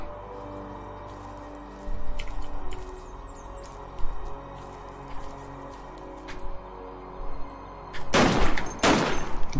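Shotgun blasts in the survival game Cataclysm DDA: a few small pops early on, then two loud, close, booming bursts near the end over a low ambient hum.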